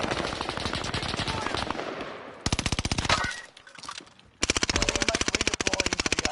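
Automatic gunfire in Call of Duty Warzone, played in Caldera: loud, sharply spaced machine-gun bursts with a short lull in the middle, then a second sustained burst, with faint voices underneath.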